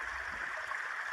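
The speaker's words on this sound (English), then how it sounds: "what you're looking at here is what they call a babbling brook. You can hear it babbling." A babbling brook near Ross Lake Dam gives a steady, close rush of flowing water with a soft gurgle, continuous and without pauses.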